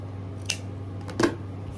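Scissors snip through a length of ribbon while making a hand-tied bow, two quick close cuts about a second apart over a faint steady hum.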